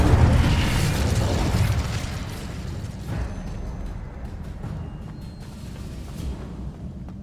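A fire spell cast in the wizarding game Hogwarts Legacy bursts out as a heavy, booming whoosh that starts loud and slowly dies away into a low rumble with scattered crackles.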